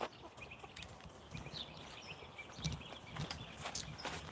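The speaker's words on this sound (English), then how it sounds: "So the chooks going wild." Chickens in a backyard garden coop cluck and squawk in scattered bursts, faint and somewhat distant, with shuffling movement around them and no talking.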